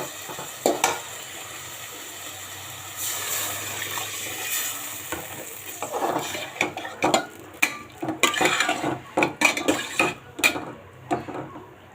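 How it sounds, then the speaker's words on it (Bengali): A curry of rohu fish and raw banana is stirred in a pan. Quiet frying sizzle runs underneath, then the spoon scrapes and clinks against the metal in sharp, irregular strokes that grow busier toward the end. "আমি এখন ঝুম দিয়ে দিব আর নাড় দিব"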